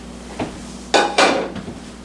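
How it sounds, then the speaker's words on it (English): Crunchy ramen noodles and almonds tumble into a salad bowl in two bright clattering pours, with a lighter tap before and small rattles after. "it's cool enough now that we can go ahead and add the noodles and the almonds"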